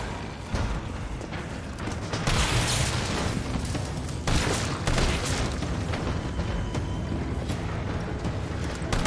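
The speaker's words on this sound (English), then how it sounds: "Why did that one explode?" Explosions and gunfire-like bursts from the Resident Evil 3 Remake video game: dense, loud booming blasts with sharp impacts around the two- and four-second marks over continuous rumbling game noise, no talking.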